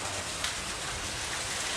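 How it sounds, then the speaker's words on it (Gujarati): Dense, steady monsoon rainfall in Gir hisses loudly and continuously, a broad wash of drops pounding surfaces nearby with no voices. "અને ફૂલ વરસાદ ચાલુ છે"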